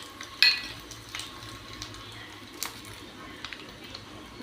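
Dried red chillies frying in hot oil in a pan with mustard seeds, giving a steady sizzle and crackle marked by scattered pops and light clinks, one sharp metallic clink near the start.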